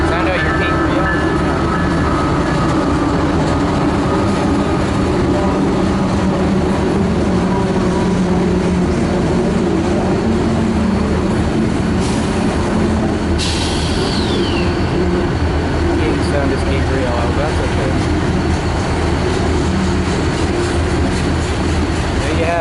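A CN yard crew's freight train moves by in a continuous heavy rumble that stays loud throughout, with a brief hiss of higher noise near the middle and some voices underneath.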